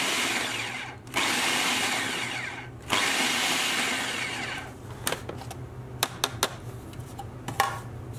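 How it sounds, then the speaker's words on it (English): A food processor pulses salsa with lime juice in loud bursts of whirring and chopping, two long runs followed by several short sharp pulses near the end. "Now we're going to pulse this, we don't want to just leave it running."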